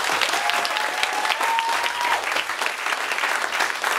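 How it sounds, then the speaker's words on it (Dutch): A crowd at a youth event in Almelo breaks into sustained, loud applause, a thick wash of many clapping hands with a faint whistle early on. "Dus alvast even met z'n allen een applaus voor alles wat hier is gebeurd."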